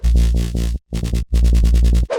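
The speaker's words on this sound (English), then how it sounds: "Mid bass without effect sounds like this." Dry future bass mid-bass synth with no effects plays a rhythmic run of pulsing, buzzy harmonic notes in three bursts separated by short gaps, loud and alone.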